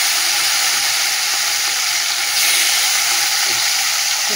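Fish frying in hot oil in a wok, a steady loud sizzle and crackle close up, continuous with no talking.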